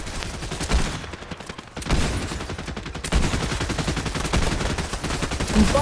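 Continuous rapid gunfire from a video game firefight, loud volleys of automatic shots rattling almost without pause, broken by brief dips before the shooting resumes.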